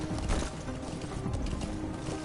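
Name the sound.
horse hooves clip-clopping in video game Metal Gear Solid V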